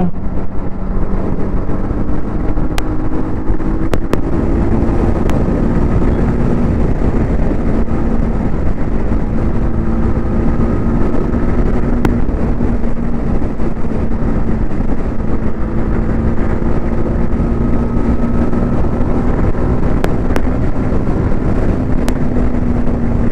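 A 2025 TVS Apache RR310 motorcycle, a trellis-frame race bike, is ridden at speed, its engine droning steadily and loudly under heavy wind rush, with slight pitch changes and no talking.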